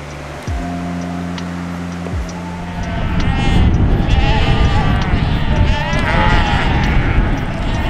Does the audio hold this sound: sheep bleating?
yes